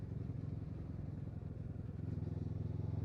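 A motorbike engine on the road during a ride, a low steady throbbing drone with faint rattle, close and constant for a few seconds.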